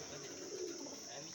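Pigeons coo softly and steadily in the background, a low murmuring drone with no clear breaks, faint and continuous throughout.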